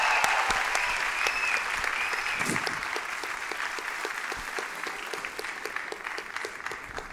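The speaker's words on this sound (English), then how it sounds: "Can we please have a round of applause for Asha?" Applause from the audience at a Bollywood dance show, a dense, steady patter of many hands that fades slightly toward the end, with a faint voice briefly audible underneath.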